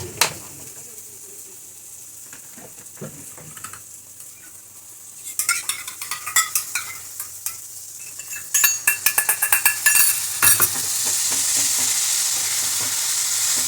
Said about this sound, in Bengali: আর মশলাটা এখন একটু ভাজা ভাজা হোক একটু কষিয়ে নিয়ে তারপরে আলু আর মাংসটা দিয়ে দেবো